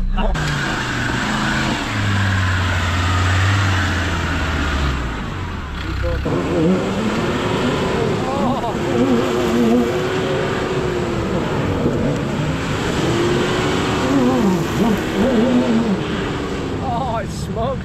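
A Land Rover 4x4 labours up an off-road hill on a track, its engine droning low and rising and falling in pitch as it strains, loud and continuous, with people talking and exclaiming over it.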